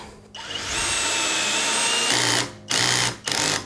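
A cordless drill-driver whirs steadily at high speed for about two seconds, then gives two short bursts as it drives a screw on torque setting 20, close by.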